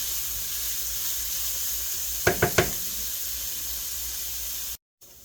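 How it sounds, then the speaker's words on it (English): Onions and garlic sautéing slowly in a pan for a tourtière meat pie filling, a steady soft sizzle throughout, broken by three quick knocks near the middle and a short drop to silence near the end. "We'll slowly saute them until transparent"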